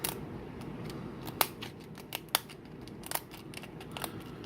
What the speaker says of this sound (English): we're going to take our scissors, and we're going to end up cutting right down the seam